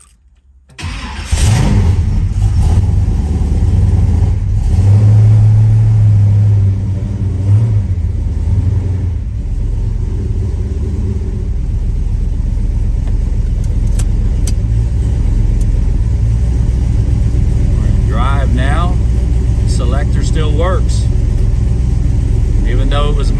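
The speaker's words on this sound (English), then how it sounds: "So let's start this car too." A 1967 muscle car's aluminum-headed 454 V8 cranks and catches about a second in, then settles into a loud, deep, steady rumbling idle with occasional revs, running close and continuous to the end.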